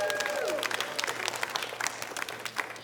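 An audience applauds a man, a dense burst of clapping that starts loud and gradually thins into scattered claps, with some crowd voices mixed in.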